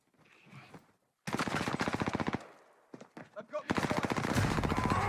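Automatic gunfire from the Warzone video game, loud sustained bursts of rapid shots in two long volleys separated by a few scattered single shots, with a faint voice underneath.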